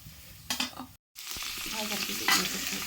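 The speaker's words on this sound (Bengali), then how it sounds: "এর আগে কলাগুলোকে ভেজে নিল, এখন মাছগুলোকে ভেজে নিচ্ছে" Fish sizzling and spitting in hot oil in a pan, frying after a batch of bananas for a fish-and-banana curry, with stirring and scraping, close and fairly quiet, briefly cut out midway.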